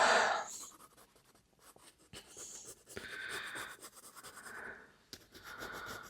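Pencil scratching across paper in uneven bursts of quick strokes, close and fairly quiet, with brief pauses between scribbles.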